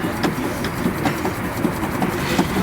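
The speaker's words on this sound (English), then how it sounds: "That noise is the clutch, not the engine." Clutch of a Stirling engine model boat, a steady mechanical whirr with regular light ticking and clacking, moderately close and continuous with no voices.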